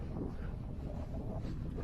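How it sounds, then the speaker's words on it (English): Steady wind buffets the microphone at an exposed wild campsite on a coast-to-coast hike, a continuous low rumbling roar with no pauses over the short stretch. "Right here, a little bit windy,"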